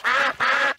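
Two quick, loud quacks come from cartoon ducks in a Peppa Pig episode, close up with a short gap between them and no talking.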